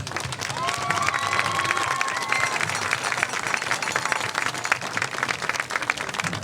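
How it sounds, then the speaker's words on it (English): Crowd applause and cheering at a St Joseph Eagles versus Second Baptist Eagles high school football homecoming game, sustained and loud throughout, with a faint announcer voice and whistles underneath. "Can we get one more round of applause?"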